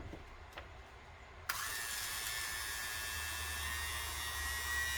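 A power tool spins up at low speed to polish a VW Beetle cylinder head with red Scotch-Brite: a faint tap, then a sudden steady high whine and buzz that holds with a low rumble beneath.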